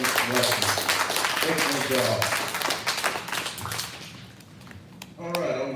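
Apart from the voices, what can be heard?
small round of applause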